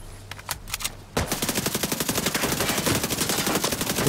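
Machine gun fire in the video game The Division 2: a few scattered shots, then from about a second in a long, rapid, steady burst that runs without a break, close and loud.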